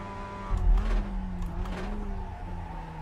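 A race car engine in the sim-racing game iRacing at the Tsukuba circuit, droning steadily at high revs with a brief louder surge as the throttle comes on and the pitch shifts slightly.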